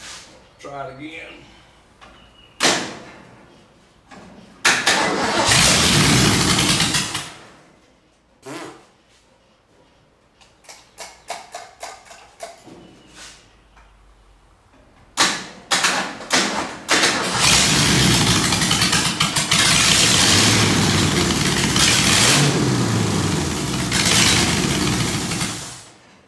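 People talk, then a 1947 Ford truck engine cranks in loud bursts and finally catches, rumbling steadily near the end.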